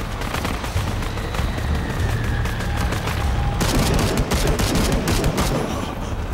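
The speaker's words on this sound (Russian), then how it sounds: "ты хорошо стреляешь в бога." Rapid gunfire in Shadow of the Tomb Raider as a god is shot at, a dense continuous fusillade of loud shots and booms with no pauses, filling the whole stretch with no talk over it.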